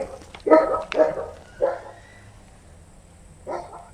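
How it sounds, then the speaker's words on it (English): Several dogs bark in short, separate bursts, a few loud barks close together followed by pauses and a later single bark, with no talk over them. "this place is full of deranged dogs"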